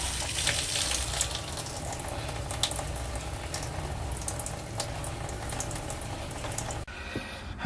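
Water running from an RV faucet valve during winterization until antifreeze comes through, a steady hissing, splashing flow close by that stops abruptly near the end.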